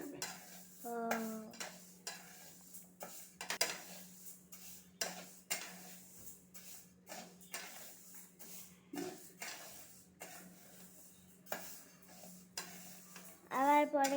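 Moong dal fries in a pot for khichuri, heard as repeated clinks and scrapes of a utensil stirring against the metal, with faint sizzling underneath and brief voices talking at moments.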